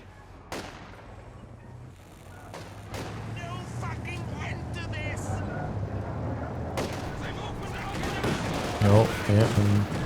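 Machine gun and other gunfire in the World War II strategy game Company of Heroes 2, distant rattling bursts and sporadic shots beneath someone commentating, with a louder flurry near the end.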